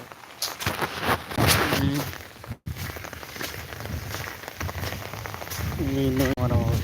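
Steady heavy rain hisses on surfaces in a village throughout while a voice speaks intermittently over the downpour.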